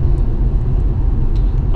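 Car cabin while driving during a cabin air-conditioning test: a steady, loud low rumble of engine and road noise fills the space continuously.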